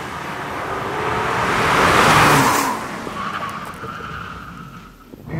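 A 2016 Seat Ibiza Cupra 1.8 TSI brakes hard, its tires squealing and skidding in a loud, close screech that swells, peaks, then fades as the car slows, with no talk over it.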